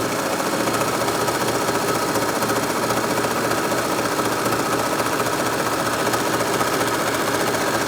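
A Brother 4234D overlocker runs steadily through 10-ounce stable cotton denim, a loud, continuous rapid mechanical whir and chatter at close range with no pauses and no voices.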